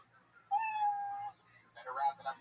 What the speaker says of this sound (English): you know your 60 seconds is up when you hear the sound of a kitty